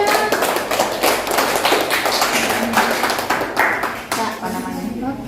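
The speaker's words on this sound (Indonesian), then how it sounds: "tepuk tangan semuanya" Group clapping at an elderly group activity therapy session, a dense run of hand taps filling several seconds, with voices and background sounds mixed in.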